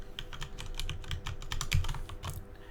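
Steady typing on a computer keyboard, a quick irregular patter of soft key clicks close to the microphone with no voices over it.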